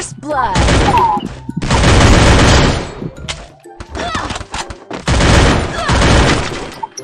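Heavy gunfire in the mobile battle royale game Free Fire, with loud dense bursts of automatic shots in several long volleys separated by short gaps and scattered single shots.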